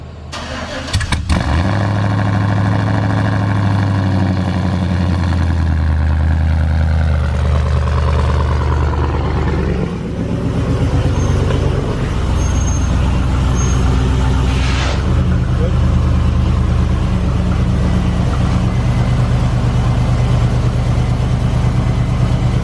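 An LS-engined car cranks and fires up, then settles into a loud, lumpy idle with popping backfires, close by. Voices talk briefly over the engine.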